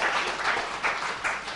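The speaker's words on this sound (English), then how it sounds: "So let's clap very, very loudly for Honorable Justice Sood." Audience applause at a conference session in a hall, a steady wash of clapping from many hands, moderately loud, with no talk over it.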